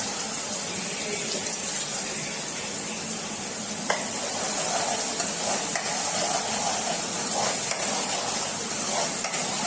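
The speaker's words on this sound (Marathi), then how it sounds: "कांद्याचं पेस्ट थोडं परतवून घेऊया." Onion paste sautés in a pan with a steady, close hiss of frying and occasional faint scrapes of stirring, no voices.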